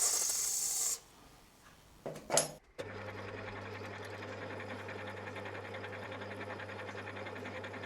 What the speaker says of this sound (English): And finally go in with the 8mm reamer.